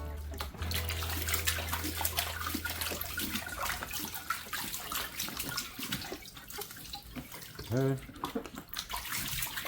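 Gold concentrates being panned in water, with steady sloshing and swirling splashes throughout and a low hum early on; a voice speaks briefly.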